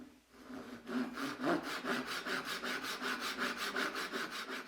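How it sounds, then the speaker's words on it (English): Walnut and cherry boards being sawn to length with a hand saw, close and clear, as a steady run of regular back-and-forth rasping strokes about four per second, with no talk. "Once I have the size figured out and marked, I can saw the pieces to length."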